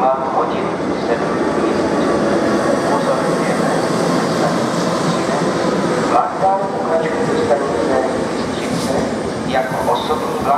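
A train stands at or rolls through a Czech railway station on the line toward Ostrava main station, giving a steady loud rumble with faint clatter and brief squeals, while a station announcement voice speaks over it.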